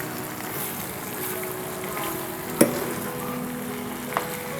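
Rohu fish roe frying and being stirred in a pan over medium heat, a steady low sizzle with a couple of sharp utensil scrapes and taps against the pan.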